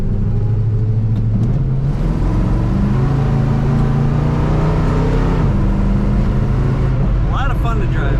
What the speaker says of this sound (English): This car is a good runner, strong acceleration.